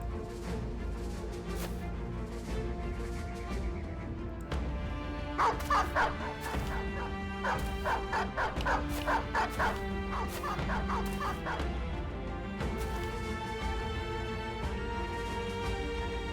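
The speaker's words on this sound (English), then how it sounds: "The dogs are meeting for combat." Dogs barking in the Battle Brothers video game as they clash in combat, a flurry of repeated barks, yips and whimpers in bursts over a steady background bed, fairly close.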